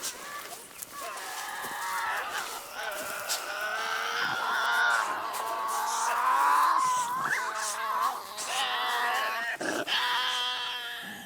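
Tasmanian devils at dinner time in the bush give loud, sustained shrieks, unearthly wails and rough growls, close and overlapping with sharp bursts throughout.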